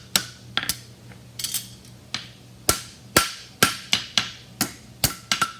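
Hammer blows on a horseshoe worked over the anvil horn while shaping a mushroom trotter shoe, a dozen or so sharp ringing metallic strikes in irregular clusters, close and loud.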